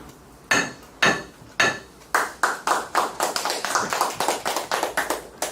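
Applause at an agents' association business meeting, beginning with a few separate claps and building into quicker, overlapping clapping from a small group indoors.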